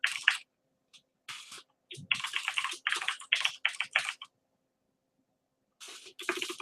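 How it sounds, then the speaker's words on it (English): Rapid clicking keystrokes on a computer keyboard in bursts, close by, with short pauses between flurries of typing, in a classroom. "I don't know what the heck I'm typing."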